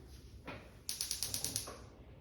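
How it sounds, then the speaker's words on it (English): A stovetop igniter ticks in a run of about seven sharp, evenly spaced clicks, close and fairly quiet, in a kitchen where beef and cabbage are being cooked. "So I'm gonna turn my stove on"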